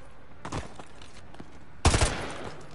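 A couple of gunshots in Modern Warfare 2 Remastered: a softer crack early on, then a louder, close burst of several quick shots near the end over quiet background.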